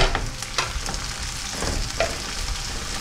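Tomatoes and onions sizzling in a pan for homemade chicken curry, a continuous frying hiss broken by a few scrapes and stirs of a utensil, close and alone.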